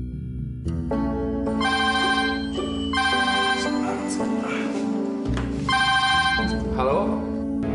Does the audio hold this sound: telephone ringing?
yes